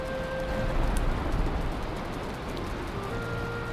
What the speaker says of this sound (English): it sounds like it's still raining cats and dogs out there